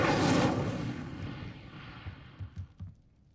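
The Incendio fire spell is cast in Hogwarts Legacy: a loud whooshing roar of flame that bursts at once and fades over a few seconds, with a few dull thuds near the end.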